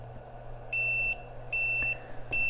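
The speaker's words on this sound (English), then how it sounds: "You can hear that the inverter is beeping" An 800W power inverter on a 12V car battery, powering a 500W heater, sounds a low-battery alarm: three short, high electronic beeps repeating at even intervals over a low steady hum, fairly faint and close.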